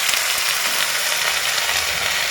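Chopped tomato stirred into frying eggplant in a pan, a loud, steady sizzle with scraping, clicking stir noises close by.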